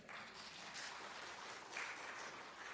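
An audience at a Temple Beth El gathering in West Palm Beach claps in a steady, moderately faint wash of applause that lasts a few seconds and is heard with no talk over it.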